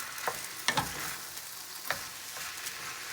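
Noodles simmer in a sugary sauce in a pan, giving a steady soft sizzle with a few stirring scrapes and clicks, close by, without talk.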